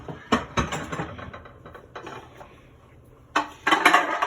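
A metal baking pan for mac and cheese is handled and set down, giving several clattering knocks and scrapes in bursts with a quiet gap in the middle, close and fairly loud.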